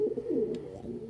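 Pigeon cooing in a low, continuous murmur of soft throaty calls close by, with no one speaking.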